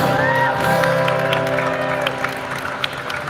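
A crowd at a Liverpool street protest claps and cheers to welcome the next speaker, a loud burst of applause with scattered whoops that gradually thins out, with voices audible throughout.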